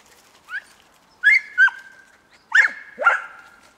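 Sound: six-month-old dog barking

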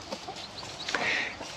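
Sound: baby chicks

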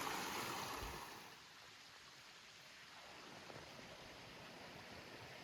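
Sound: small forest stream flowing

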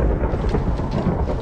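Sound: thunder from Minecraft Blood Magic ritual, video game

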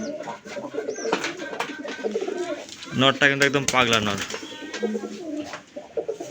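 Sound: pigeons cooing

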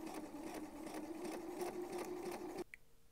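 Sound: sewing machine stitching boxer shorts fabric

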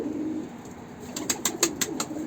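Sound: birds (pigeons) cooing in the coop

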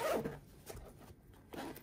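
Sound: zipper on a sewn toiletry bag being handled

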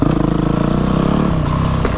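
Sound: dirt bike motorcycle engine

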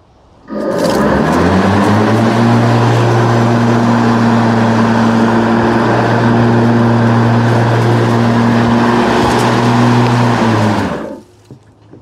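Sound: Ryobi RM480E electric riding mower with mowing deck running

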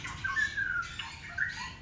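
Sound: bird squawking

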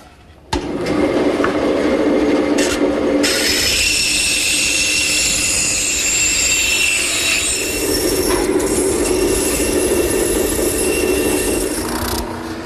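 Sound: drum sander sanding a wooden whirligig part

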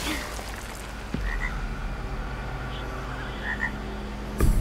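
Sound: toad croaking in the video game Blacktail

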